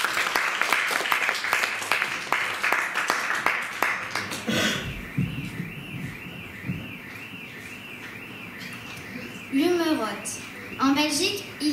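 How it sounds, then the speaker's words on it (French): Audience applause for a performer at a slam poetry stage event, a loud burst of clapping at the start that fades after about four seconds, followed by a sustained wavering electronic tone and chirps. "je t'en prie, on l'applaudit bien fort."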